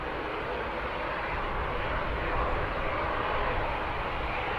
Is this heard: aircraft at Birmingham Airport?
yes